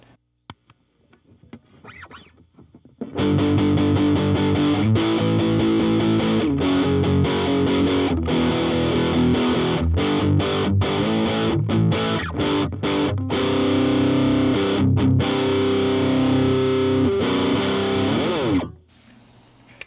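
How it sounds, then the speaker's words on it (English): An electric guitar played through a Delta Labs Rock Distortion pedal, sustained crunchy chords ringing out loud and steady after a brief quiet start, then cutting off. "we've got the Delta Labs Rock Distortion"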